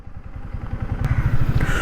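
Royal Enfield Himalayan motorcycle engine running close by, a rapid, throbbing low-pitched putter that grows slightly louder over the short stretch.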